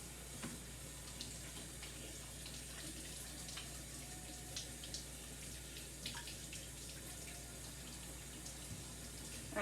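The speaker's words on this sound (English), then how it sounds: "Well, I'll wash my hands." Steady running tap water while hands are washed at a sink, a continuous soft rushing and splashing at close range with no talking.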